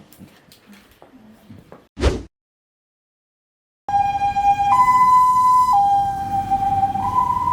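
An ambulance siren wails on a street in Chanthaburi, Thailand, starting abruptly after a brief silence and alternating loudly between two tones as it passes close by.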